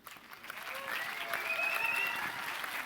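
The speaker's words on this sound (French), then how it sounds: "sous les applaudissements de la foule en délire" Audience applause fills a hall at a doctoral graduation ceremony as two people are called to the stage, steady dense clapping building slightly and holding throughout.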